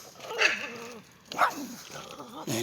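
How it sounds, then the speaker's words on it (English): Dogs fighting, with a few sharp barks and yelps breaking out between snarling growls, fairly quiet and a little distant. "Damn dogs. Excuse me, dog fight."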